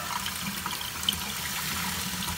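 Hot water runs steadily from a tap, a continuous broadband splashing rush with no talk over it.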